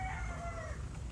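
A fighting gamecock rooster crows once, its drawn-out call rising and trailing off over a low, steady outdoor rumble, with no talking.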